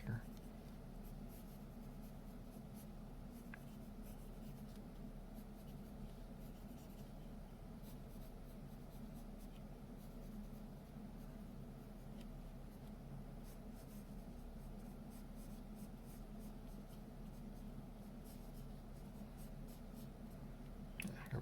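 A pencil sketches on paper, drawing a landscape scene with grass and trees, its faint, steady scratching and rubbing strokes running continuously at low volume.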